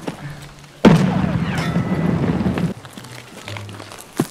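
A single sudden loud grenade blast in Escape from Tarkov bursts out and rumbles for about two seconds before fading, with faint low hum before and after.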